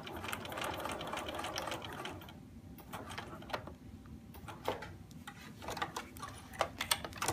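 A sewing machine backstitches through quilt fabric, its rapid mechanical stitching running close and steady, then pausing briefly before resuming in short bursts.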